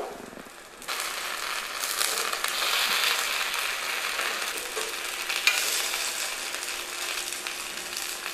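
Masala paniyaram batter made with cumin, curry leaves and onion fries in a pan, giving a steady, close, crackling sizzle that starts suddenly and continues throughout.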